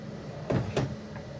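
A full pull-out storage drawer in a Newmar Ventana RV kitchen slides and thuds shut in two quick knocks close by, followed by a faint tap, with no talking.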